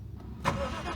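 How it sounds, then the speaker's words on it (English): A Lexus IS200 engine cranks and catches with a sudden loud burst, then settles into a steady, close running rumble with no voices. "Of course the car starts when I'm not filming"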